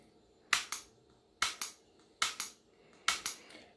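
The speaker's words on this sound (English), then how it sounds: "we're just going to shoot some targets and see what comes up on screen" Shots fired at a Pro-Shooter Series 2 electronic smart target system, heard as four evenly spaced pairs of sharp cracks, each pair a crisp report followed quickly by a second impact-like snap, close and clear with no talking.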